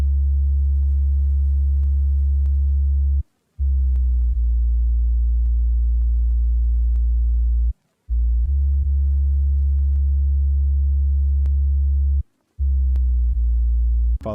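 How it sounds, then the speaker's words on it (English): Layered dreamy guitar melody with bass added underneath, built through a long delay channel strip and vintage chorus, sustained steady tones in three long phrases separated by brief silent gaps. "After all that, I throw on the bass."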